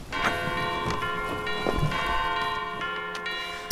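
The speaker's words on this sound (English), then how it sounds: "Hark, the bell is ringing, calling us to singing." Church bells ring with rich, sustained overlapping tones and repeated strikes, loud and close throughout the short stretch, with no talking.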